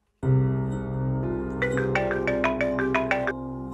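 An electronic phone ringtone plays alone, a sustained tone followed by a quick run of bright repeating notes.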